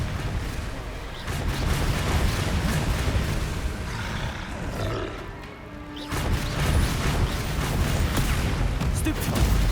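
Confringo blasting curses go off in Hogwarts Legacy combat, dense booming explosions and crashes piling up loudly, easing briefly midway before surging again.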